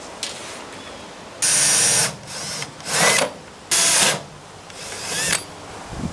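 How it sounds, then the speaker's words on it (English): A power drill bores a hole to mount lights, in several loud, close bursts of high whining spin, separated by brief pauses and lower revving as the trigger is eased. "I'm gonna go ahead and drill the first hole"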